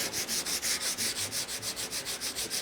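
Wood furniture being hand-sanded with 320-grit sandpaper, a close, quiet, rhythmic rasping stroke repeated back and forth about five times per second with no talk.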